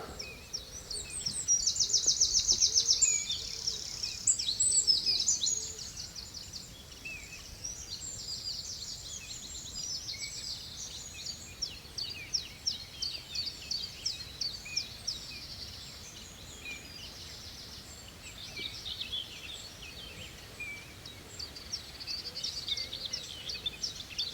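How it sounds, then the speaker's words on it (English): Many birds sing and chirp at once in a busy outdoor chorus by a carp fishing spot on a cool overcast day, loudest early on, then continuing in bursts of twittering with no talking. "The birds seem extra loud."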